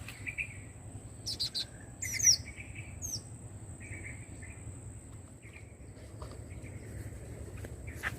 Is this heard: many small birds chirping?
yes